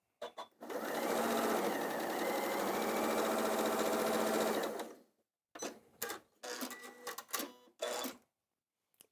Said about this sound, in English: And I then line this up to do a 1/4 inch seam all the way down.